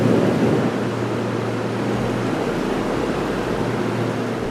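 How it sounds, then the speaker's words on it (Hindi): Lexus LX 570 2020 with its V8 engine starting up and settling into a steady, broad low rumble, close and continuous with no talking. "ये LX 570 का स्टार्टअप"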